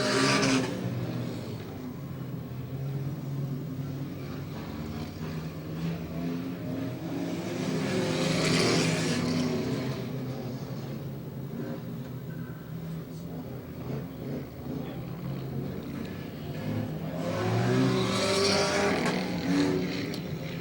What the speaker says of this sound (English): That's an old school figure 8 car and a Grand Marquis that's built specifically for enduros there.